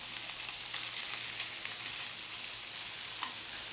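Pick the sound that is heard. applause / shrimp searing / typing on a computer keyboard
shrimp searing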